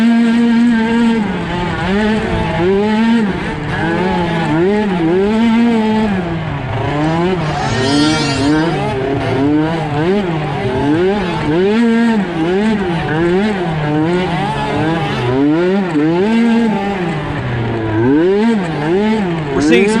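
Small 90cc stock off-road race motorcycles at a GNCC Micro XC2 race at Ironman Raceway in Crawfordsville, Indiana, whine and rev steadily, rising and falling as several bikes pass close by, loud and continuous throughout.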